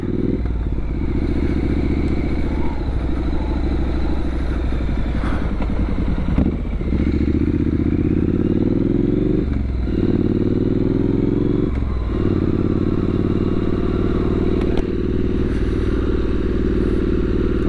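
Triumph Street Scrambler 900 motorcycle ridden on a short road trip, loud continuous engine rumble with gear changes and revs rising and dropping, close and alone without talk.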